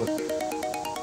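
A mobile phone ringtone plays a bright, repeating electronic melody in quick regular pulses, clear and moderately loud with no voices over it.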